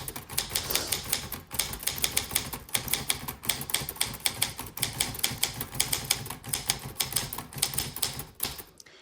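Keys clatter in quick irregular bursts on a 1966 Olympia typewriter, sharp close strikes with brief pauses between runs, and no voices.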